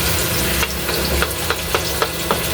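Onions sautéing in a pan, a loud close sizzle with regular stirring scrapes every half second or so.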